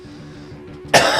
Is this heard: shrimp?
no